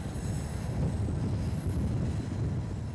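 The Tren a las Nubes pulls out of the station in Salta, Argentina, a steady low rumble of rolling railcars with faint wheel noise, continuous and close throughout.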